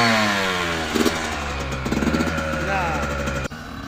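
A dirt bike engine revs in sharp bursts up close, a loud buzzing idle between the throttle blips before cutting off abruptly, with voices talking over it.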